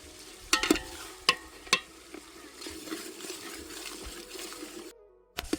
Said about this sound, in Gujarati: તો હવે નાખી દઈશું 100 ગ્રામ જેવું લીલું લસણ.